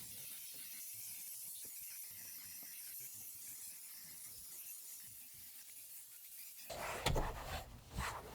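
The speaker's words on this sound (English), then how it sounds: "heat up the area with steam, apply adhesive remover, and gently scrub with the steamer" A steam cleaner hisses steadily while scrubbing plastic trim inside a filthy van. Scratchy, ratcheting scrubbing clicks sit under the hiss, and a louder, harsher burst comes near the end.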